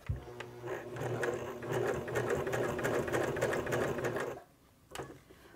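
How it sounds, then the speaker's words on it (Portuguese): A domestic sewing machine stitches synthetic Montana fabric in a close, steady mechanical whir that runs for about four seconds, pauses briefly, then gives a couple of short clicks as the work is adjusted. "Deixo a minha agulha afundada e continuo costurando."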